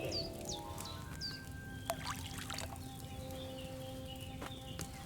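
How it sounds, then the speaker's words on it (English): Wine pours into a cauldron in the medieval game Kingdom Come: Deliverance 2, a soft steady trickle near and clear, with light clinks and ambient game tones around it. "So, what did you pour in there? Wine, of course."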